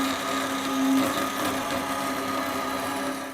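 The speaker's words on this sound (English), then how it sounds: "It's amazing how quickly this saw goes through 1/2 inch aluminum." A power saw cuts through half-inch extruded aluminum stock, a loud steady mechanical whine with a tonal hum that holds without pause across the whole stretch, with no talking.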